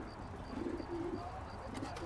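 Pigeons in a coop, from the detective game L.A. Noire, coo softly in a few low, murmuring phrases over faint background ambience.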